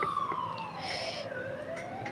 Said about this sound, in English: Don't mind the ambulance behind.